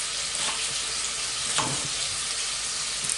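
Squirrel pieces fry in a pan, a steady broad sizzle with a few soft knocks and scrapes as the meat is moved, heard close with no talking.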